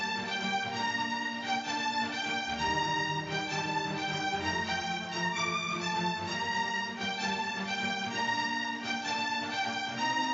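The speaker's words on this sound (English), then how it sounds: "I just play the string section." String section of an intense orchestral trailer track, sustained layered strings playing a steady pulsing ostinato, even and moderately loud throughout, with a low register entering a few seconds in.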